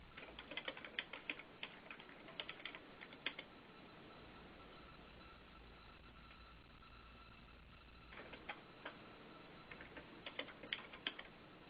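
Clicky keystrokes from a computer keyboard come in quick bursts with a long pause between them, faint and close against a quiet room hum during an online webinar.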